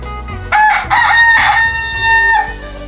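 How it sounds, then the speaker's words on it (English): A rooster on a farm crows a loud, close cock-a-doodle-doo, one long rising-and-falling call with a strong harmonic tone, heard alone without any talk. "The rooster crows cock-a-doodle-doo."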